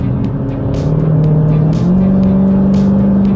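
A Dodge Challenger 392 Scat Pack T/A fitted with a pedal box runs in Sport Plus mode, its V8 holding a loud, steady low drone that steps up in pitch as the throttle opens, heard up close.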